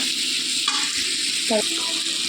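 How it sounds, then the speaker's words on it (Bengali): Shrimp fry with onion in a pan, giving a steady, close sizzle throughout, with a couple of brief clinks or voice-like sounds in the middle. "পেঁয়াজের সঙ্গে চিংড়ি মাছটা ভেজে নেবো"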